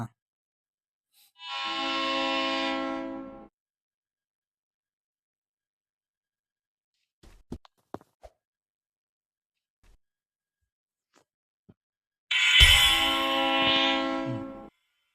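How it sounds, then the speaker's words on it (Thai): Train horn in the Roblox video game, two long steady blasts a few seconds apart with near silence and a few faint clicks between them. "รถไฟ"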